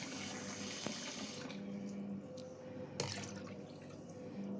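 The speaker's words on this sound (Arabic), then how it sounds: "هنحط عليهم كوبايتين ميه" Water pours steadily from a tap or cup onto sugar in a kitchen to make syrup, a continuous close hissing splash with a few knocks and clinks.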